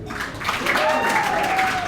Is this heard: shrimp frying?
no